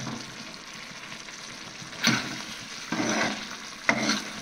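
Wild mushrooms cook in a pan at home, sizzling steadily, and three louder bursts of frying stand out as the mushrooms are stirred.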